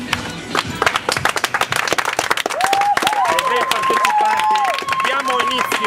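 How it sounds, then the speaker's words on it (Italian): Applause for pageant participants at a song contest, crowd clapping under an announcer's voice, with a bright sustained tone rising over the later part. "con un applauso di tutte le partecipanti"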